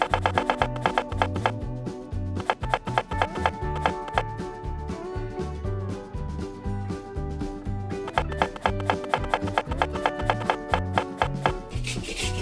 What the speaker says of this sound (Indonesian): cincang daun kemangi, bawang putih, dan 30 gram kacang pinus